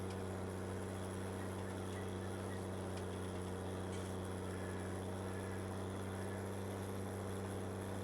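A Fiat tractor engine in Farming Simulator 22 drones steadily and loud-toned but from a distance, a constant low hum with no change in pace throughout.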